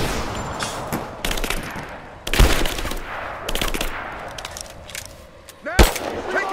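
Gunfire in the video game Rise of the Tomb Raider, a rapid string of sharp shots and bursts of varying loudness with a few heavy close cracks, with brief speech in between.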